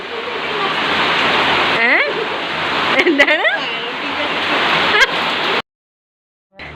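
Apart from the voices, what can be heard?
heavy rain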